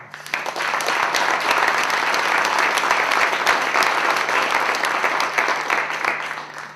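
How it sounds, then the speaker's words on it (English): Audience applause for a city public works crew during a mayor's State of the City address, a sustained, full round of many people clapping in a room, steady and loud before trailing off. "Lloyd Curitin and the entire DPW crew deserve a round of applause"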